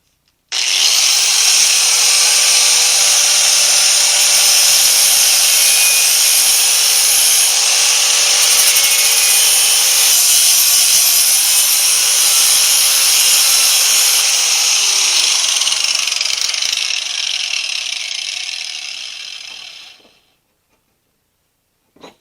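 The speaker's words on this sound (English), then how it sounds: "Now I just got to try to grind that high spot down." An angle grinder grinds down a high spot on the steel body of an S10 Blazer under rust repair, a loud, steady, close whine that runs unbroken for about twenty seconds before cutting off.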